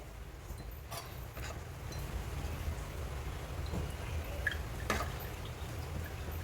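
Homemade desi ghee, made from milk cream, trickles through a tea strainer in faint, scattered soft drips over a steady low background hum.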